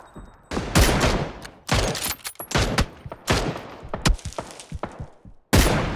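Bursts of gunfire in a PUBG match, several loud, sharp volleys and rapid shots in irregular clusters with short pauses between them.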